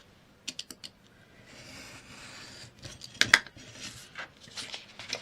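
Scissors cutting a paper book-page flap diagonally in half, with a few sharp snips followed by longer rasping slices and crisp crinkles, close and moderately loud with no voices.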